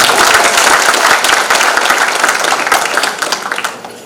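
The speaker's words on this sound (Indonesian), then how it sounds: "Ayo kita tepuk untuk Pak Ketua tadi sambutan." Audience applause at a college graduation ceremony follows the chairman's speech, loud dense clapping that thins out and tapers over a few seconds.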